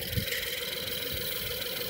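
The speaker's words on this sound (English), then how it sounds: "trying to keep the engine from dying" A car's GDI engine idles while cleaner is sprayed into its intake, a close, steady mid-pitched running hum with slight uneven pulsing and no voices.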